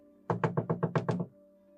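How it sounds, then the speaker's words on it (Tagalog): Knocking on a door in a horror audio drama: a rapid series of seven firm knocks in about one second, close and loud, with quiet room tone before and after. "Kumakatok ng ang aswang."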